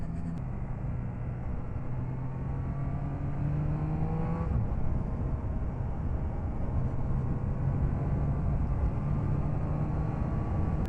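A 2022 Triumph Trident 660 motorcycle ridden through curves, its engine holding a steady, close drone with shifting pitch as the rider leans through the bends, along with constant wind rush and no talking.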